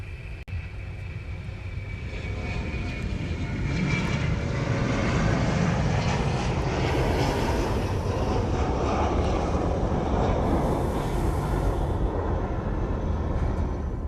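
A DHL cargo airplane passes overhead near Honolulu airport in Hawaii, a steady, loud broadband engine roar that swells and holds across the whole stretch with no talk.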